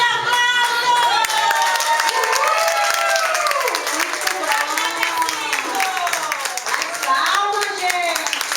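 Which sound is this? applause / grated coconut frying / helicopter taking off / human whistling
applause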